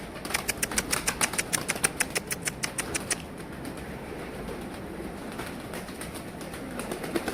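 Pigeons' wings flap rapidly in a steady pulsing burst for about three seconds, then a softer rustling outdoor hiss with faint background noise.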